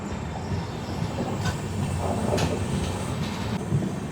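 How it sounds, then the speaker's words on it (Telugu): Seshadri Express running with new LHB coaches, a continuous low rumble of wheels and carriage heard from aboard, with faint rhythmic clicks over the track and no talk. "మన ట్రైన్ తణుకు నుంచి అయితే బయలుదేరిపోయింది."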